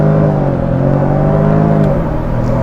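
A Jaguar F-Type P300 Cabrio from 2020 holds a steady, loud engine drone near 2000 rpm in launch control, its pitch rising slightly as it builds for acceleration, heard up close.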